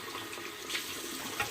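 Hot water runs steadily from a tap into a shaving bowl, a continuous close splashing stream with no talking.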